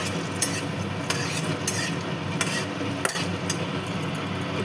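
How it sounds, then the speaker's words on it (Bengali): Dry red chillies and whole garam masala frying in hot oil for a Bengali dhaba-style egg tarka, a steady crackling sizzle broken by sharp spatula scrapes and taps against the pan, close and fairly loud with no talk. "দিয়ে দিচ্ছি এর মধ্যে শুকনো লঙ্কা, গোটা গরম মশলা। হালকা করে ভেজে নেব।"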